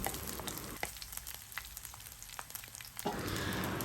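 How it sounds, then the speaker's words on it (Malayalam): Garlic fries in oil, a steady close crackling sizzle with scattered pops, briefly quieter in the middle and then stronger again. "ഒരു 2 മിനിറ്റ് ഈ ഒരു എണ്ണയിൽ തന്നെ നന്നായിട്ടൊന്ന് മൂത്ത് വരണം കേട്ടോ"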